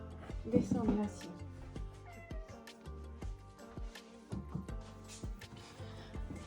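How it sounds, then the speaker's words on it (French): A house cat meows loudly and nearby in a short, insistent cry, then fainter sounds continue beneath someone talking in French. "mon chat est monté dans la bibliothèque"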